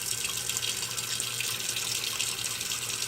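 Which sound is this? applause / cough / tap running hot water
tap running hot water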